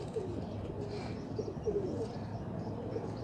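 Breeding pigeons of different varieties coo steadily at a Sunday bird market in Multan, a low, soft, continuous murmur of many birds close by with faint chirps above.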